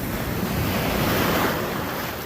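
Ocean waves crash and surge onto the shore, a loud continuous roar of surf with wind buffeting the microphone and no voices.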